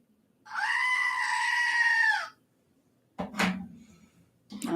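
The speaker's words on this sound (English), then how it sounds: "Between the goat screams, I'm surprised you heard anything." Goat screaming, one long loud nasal bleat lasting nearly two seconds, followed by shorter harsh cries near the end, close and clear with quiet gaps between.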